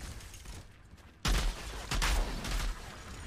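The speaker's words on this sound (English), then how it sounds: "I'm using the 3000 shotgun and then the sniper rifle." Video game gunfire from a shotgun and a sniper rifle, a cluster of loud, booming shots in quick succession after a quiet start, close and punchy.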